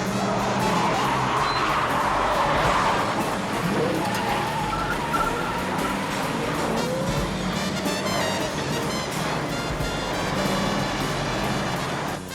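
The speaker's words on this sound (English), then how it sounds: "the bad guys start chasing him in a semi-truck, accompanied by some smooth, sexy jazz on the soundtrack" A 1987 action movie car chase with a pursuing semi-truck, loud engines and skidding tires mixed with a smooth jazz soundtrack, busy and continuous throughout.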